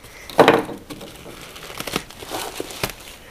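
Plastic bags crinkling and rustling close up while ceramic infrared heaters are unboxed, with a louder crackling burst near the start followed by steady lighter crinkles.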